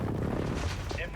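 An airstrike lands in Call of Duty Warzone as a dense, rumbling barrage of blasts and crackling explosions, loud and continuous, with radio-style game voices over it.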